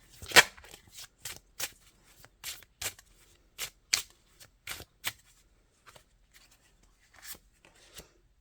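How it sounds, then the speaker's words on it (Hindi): Tarot cards are shuffled and drawn by hand: a close series of crisp, papery flicks and snaps, irregularly spaced and fading toward the end, with no talking. "एक कार्ड आखिरी और निकालते हैं।"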